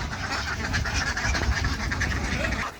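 A flock of ducks on a farm pond, many birds close together, steady overlapping quacking and chatter with a person talking faintly underneath.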